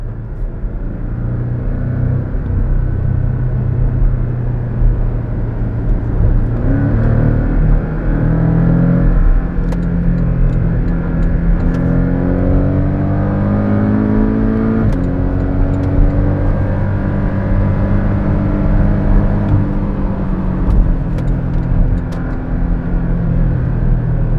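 Porsche 718 Cayman GTS pulling hard in sporty driving, with the engine note rising through the revs, a brief dip at a gear change, then climbing again, loud and steady from inside the car.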